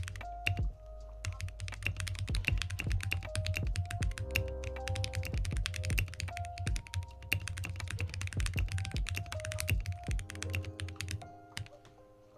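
Fingers type steadily on a custom mechanical keyboard with lubed switches, giving close, dense, soft key clicks and thocks with a few brief pauses.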